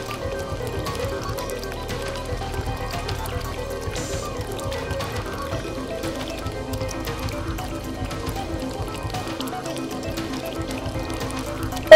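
Water effect in a stop-motion fan film: a continuous splashing, pouring and bubbling wash of liquid at steady moderate loudness, with faint tonal background underneath.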